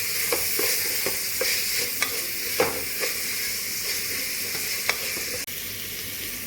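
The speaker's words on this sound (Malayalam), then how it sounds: "കറിവേപ്പില ഇട്ട് കൊടുക്കുന്നുണ്ട്, സവാള ഇട്ട് കൊടുത്ത് നന്നായി ഒന്ന് വഴറ്റിയെടുക്കുന്നുണ്ട്." Onion and curry leaves sautéing in a pan give a loud, continuous sizzle, broken by regular scraping strokes from a stirring utensil, with no one talking.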